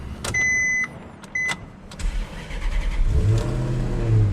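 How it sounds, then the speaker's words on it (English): Two short electronic chimes sound, then a Maserati Quattroporte engine cranks, catches and settles into a low, steady idle with a brief rev, close by. "Okay, I'm just gonna start the engine."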